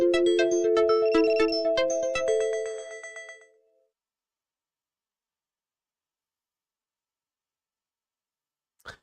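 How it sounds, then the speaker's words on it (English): A phone notification plays a melodic electronic chime of bright, ringing tones for about three seconds, then fades into silence, with a faint click at the very end. "That's a notification that is asking if I'm still awake."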